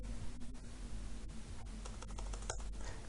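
Computer keyboard keys tapped in an irregular run of quick clicks while entering a line of code in Microsoft Access VBA, close and moderately quiet over a steady low hum, with a denser burst of keystrokes toward the end.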